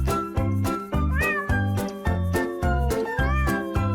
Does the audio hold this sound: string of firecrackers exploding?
no